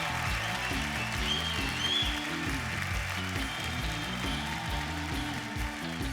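Audience applause on the DID Super Moms dance show for a dance performance, a dense, steady wash of clapping over loud music that continues throughout.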